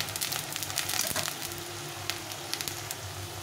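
Onions fry in a pan of oil for a goat meat curry, giving a steady, close crackling sizzle with small pops throughout and no talking.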